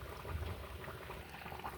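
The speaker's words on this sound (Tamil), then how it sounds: "எலும்பை சேர்த்து அவிய விட போகிறேன்" Mutton bone soup simmers in a pot, a soft, steady low bubbling that stays quiet and continuous with no talk over it.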